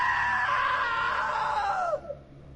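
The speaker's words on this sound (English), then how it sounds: "Now that was a great scream." A long, loud, high scream from a character in the video game What Remains of Edith Finch, sustained for about two seconds before breaking off and trailing away, heard alone.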